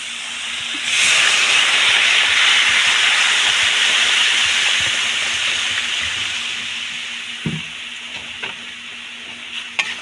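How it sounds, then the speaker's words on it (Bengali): Water poured into a hot pan of fried raw mango for chutney bursts into a loud hissing sizzle of steam that slowly fades, followed by a few clinks, close with no talk. "এখন আমি একটু জল অ্যাড করে দেবো"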